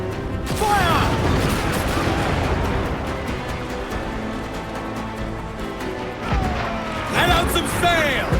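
Ship cannon fire in the naval combat of Assassin's Creed Black Flag, with heavy booming volleys and crashing impacts over churning sea and creaking ship sounds, loud and dense, with voices shouting over the battle.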